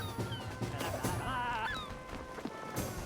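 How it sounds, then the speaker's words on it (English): Goose-like honking footstep sounds from shoes in the video game Spiritfarer, a few short nasal honks in quick succession over a busy mix of game music and ambience, fairly faint. "I love the honk shoe noises."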